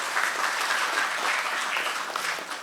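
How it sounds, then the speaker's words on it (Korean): A seated audience at a Korean National Assembly science and technology innovation forum applauds the presenter and seven panel discussants, with warm, continuous clapping of many hands that stays even and full throughout. "발제해 주신 김도영 박사님한테 뜨거운 박수 좀 부탁드리겠습니다."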